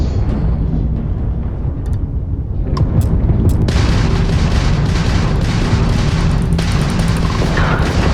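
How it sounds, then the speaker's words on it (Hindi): In the Starfield space game, missiles launch and explode in a dense, loud roar with deep rumbling booms. The sound swells partway through and keeps a constant heavy wash of blasts and engine noise. "चलो, मिसाइल छोड़ने का टाइम।"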